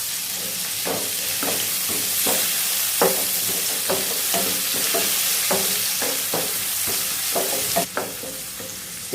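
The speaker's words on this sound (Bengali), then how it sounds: "এই সবজিগুলো আমি বেশি ভাজা ভাজা করবো না, অল্পই, মানে অল্প একটুখানি হালকাতে একটু ভেজে নিচ্ছি।" Vegetables, including capsicum, carrot and green chilli, stir-fried briefly in a pan: a constant oily sizzle runs under frequent, uneven spatula scrapes and stirs, close and fairly loud.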